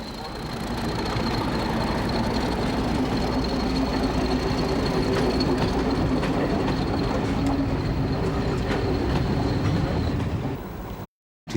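A British Rail Class 31 diesel locomotive rumbles past on its way to Cambridge, loud and continuous for about ten seconds, with faint wheel clatter. The sound cuts out abruptly at the end.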